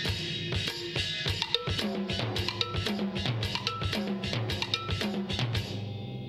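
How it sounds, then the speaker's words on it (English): Left-hand percussion part played on a jam block, ridge rider, 10-inch timbale, 13-inch snare and 14-inch bridge drum: a busy, steady stream of sharp woody clicks, metallic pings and drum hits, close and alone. "We'll have the jam block and the ridge rider. We'll have the 10-inch timbale and the 13 snare,"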